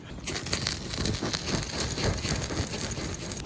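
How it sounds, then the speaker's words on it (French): An outdoor campfire burns steadily, giving a continuous loud crackling and hissing with dense popping throughout. "Là, le feu de camp se déroule bien, comme on peut voir."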